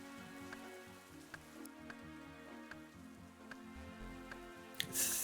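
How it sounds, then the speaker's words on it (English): Steady rain falling on surfaces in a video game's 3D dynamic weather effect, a soft continuous patter with occasional sharper drop ticks, joined by a louder crackle at the end. "Have you guys seen this dynamic weather, 3D weather plugin before? Makes it like rainy and stuff?"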